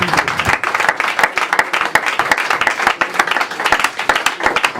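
A church congregation at a couple's blessing ceremony claps and cheers in praise, dense steady applause filling the room with scattered voices mixed in.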